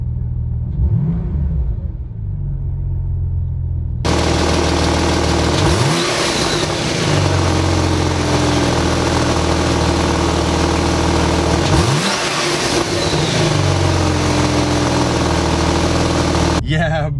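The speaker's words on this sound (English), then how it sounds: "Let's go ahead and give it a couple revs." A 2019 Porsche 911 GT2 RS idles with a deep rumble, then is blipped through a few sharp revs that rise and fall, with a louder, fuller exhaust tone switching on partway through; someone talks briefly near the start.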